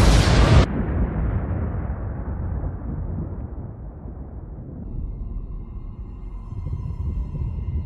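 Explosion sound effect: a sharp full-band blast opens the clip, then a long rumbling decay that thins out and fades over several seconds with no talk.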